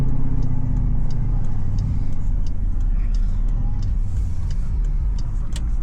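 A loud 5.7 Hemi V8 Jeep rumbles from inside the cabin while driving, with a deep steady engine drone dominating the low end and a faint ticking layered on top.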